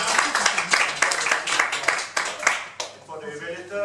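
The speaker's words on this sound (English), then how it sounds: "you can give her a round of applause" Audience applause at a Singapore public-speaking club meeting, a burst of scattered clapping for about three seconds that fades out as a voice begins speaking.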